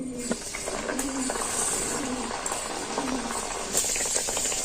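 A potato, onion and flour snack bubbles and crackles steadily in very hot oil, a dense close-up fizz with faint scattered pops and clinks throughout.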